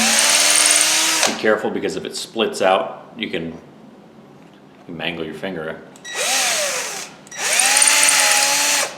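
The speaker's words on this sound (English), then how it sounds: "So then you start drilling in." A power drill bores into wood in two loud, sustained whirring bursts, one at the start and one near the end, with someone talking close by in between.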